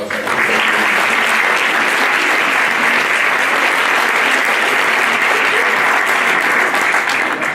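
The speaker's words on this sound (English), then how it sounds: "if everybody could just give him a round of applause" Loud, dense, unbroken applause fills a substance abuse conference hall, a steady wash of many hands clapping at once for the whole stretch without letting up.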